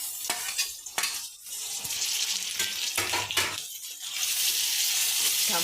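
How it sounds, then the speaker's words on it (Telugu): Chopped tomato pieces sizzle in a pan while cooking a pasta sauce, a steady close frying hiss with intermittent stirring scrapes and clinks breaking through. "ఇప్పుడు టమాటా ముక్కలు వేసేయాలండి."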